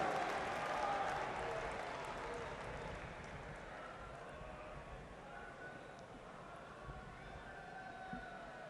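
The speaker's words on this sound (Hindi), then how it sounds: "सब जोरदार तालियों के साथ सर को वेलकम करें।" Audience applause welcoming Prime Minister Narendra Modi at the Akhil Bhartiya Shiksha Sangh Adhiveshan, a distant, fairly soft wash of clapping from a large hall that fades slightly over several seconds.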